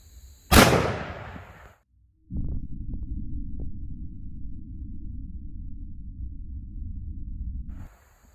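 A single sharp 10mm pistol shot from a 3.8-inch barrel, firing Fort Scott Munitions TUI 125-grain ammunition, cracks loudly outdoors and decays quickly. A low steady rumble or hum follows for several seconds.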